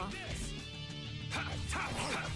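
Repede, the dog companion in the Tales of Vesperia video game, gives brief hurt yelps amid busy battle music and effects, with a player talking over the game.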